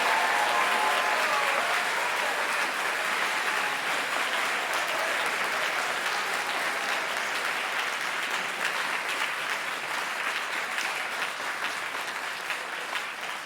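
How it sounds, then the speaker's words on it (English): Sustained audience applause at a TEDx event at Brentwood College School, a dense, steady wash of many hands clapping throughout that tapers slightly toward the end, with no talking over it. "Please give a round of applause for Mr."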